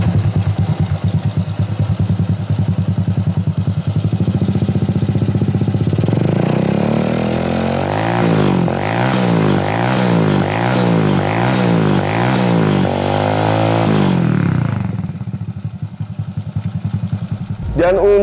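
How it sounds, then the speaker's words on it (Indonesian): Honda Astrea C100 street cub motorcycle fitted with a K20 aftermarket exhaust, running loud and close with a steady idle, then revved in a rhythmic series of rising and falling blips before settling back, with a voice talking over the engine. "di motor ini sudah menggunakan knalpot dari K20 teman-teman, dan suaranya itu seasik ini loh"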